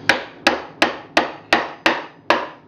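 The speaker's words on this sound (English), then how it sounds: "there's holes pre-drilled that I'm just nailing through" Hammer driving 2-inch galvanized nails through pre-drilled holes into a wooden beehive box from a starter kit: seven sharp, evenly spaced strikes about a third of a second apart, close and clear with no talk.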